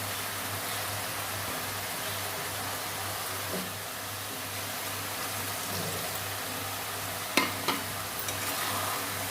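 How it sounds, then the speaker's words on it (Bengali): Fried morola fish sizzling in spiced oil with mustard paste and coriander, a steady soft frying hiss with a few faint clinks of stirring, no voices. "ভাজা মাছগুলো দিয়ে দেবো মশলা তেল ছেড়ে গেছে মাছটা দিয়ে দিচ্ছি"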